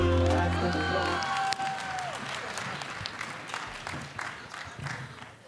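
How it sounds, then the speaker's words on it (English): Audience at an entrepreneurship festival business mixer in Nigeria breaks into sustained applause with scattered cheers, starting under a fading voice and trailing off toward the end. "Let's give him a round of applause, please."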